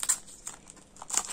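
Plastic sachets holding cutting dies crinkling as they are handled, a few quick crisp rustles close by, quiet between bursts.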